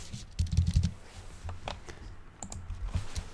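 Quick bursts of key clicks come from code being typed on a computer keyboard, close and fairly quiet, in uneven clusters with short pauses between them.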